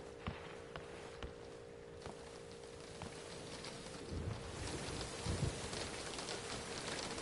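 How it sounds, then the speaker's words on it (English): Soft, steady rainfall in the game Generation Zero, a faint patter with scattered drop ticks, a low background hum and some shuffling movement toward the end. "it's freaking raining"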